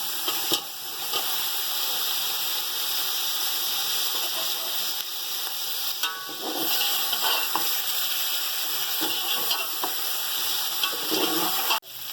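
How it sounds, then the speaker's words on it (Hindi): Chicken pieces fry with spices for yakhni pulao, making a continuous moderate sizzle with occasional stirring scrapes, fairly close and unbroken, with no voices. "अब हमारे पास ये चिकन पड़ी हुई है, ये मसालों के साथ हम ये फ्राई कर लेंगे।"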